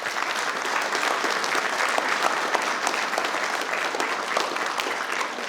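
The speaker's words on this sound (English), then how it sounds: "let's give the parents another round of applause." An audience at a school board meeting applauds in a dense, continuous wash of clapping, fairly loud and unbroken throughout.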